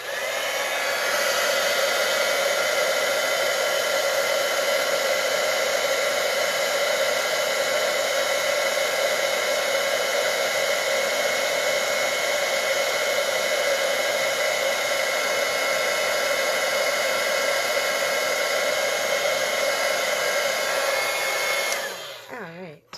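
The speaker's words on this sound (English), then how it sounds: "I'm just going to plug in my heat tool now." A steady, loud whoosh of hot air from a heat embossing tool blows continuously for about twenty seconds, then cuts off abruptly.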